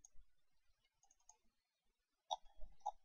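Computer mouse clicks, faint and close, come as scattered single clicks followed by a quick double click near the end in an otherwise quiet room.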